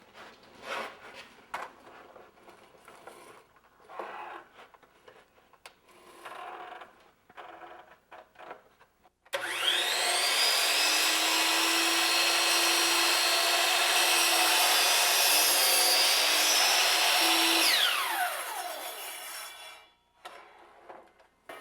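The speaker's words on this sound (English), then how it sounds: "I can take this over to my saw now and cut that miter." A power miter saw cuts a miter in wood wainscoting trim: a loud, steady whining cut of about eight seconds that winds down, with quiet handling noises before and after.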